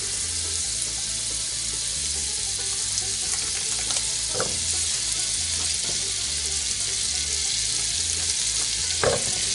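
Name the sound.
stick of butter melting, sizzling in hot skillet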